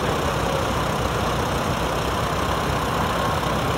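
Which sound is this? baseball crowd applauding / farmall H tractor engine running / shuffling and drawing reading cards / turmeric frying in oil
farmall H tractor engine running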